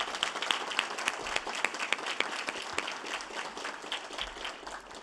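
Steady applause from an audience at a spring faculty and staff assembly, dense clapping that holds for the whole stretch with no talking.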